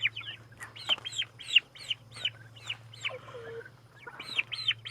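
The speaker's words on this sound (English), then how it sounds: "You like the baby turkeys?" Baby turkeys chirp in rapid, repeated high peeps over a low steady hum, close and clear, with a few lower clucks mixed in.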